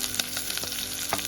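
Green chillies and curry leaves spit and crackle in hot oil during tempering, with a steady sizzle and a few sharp pops, close and alone.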